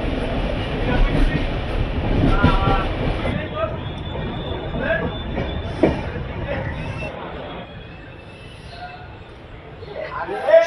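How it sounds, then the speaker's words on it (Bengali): The Kandari Express pulls into Santragachi station late at night, its low rolling rumble and clatter loud at first, then easing off, with background voices and platform babble mixed in. "আমাদের ট্রেন কান্ডারি এক্সপ্রেস এখন এসে পৌঁছালো সাঁতরাগাছি স্টেশনে"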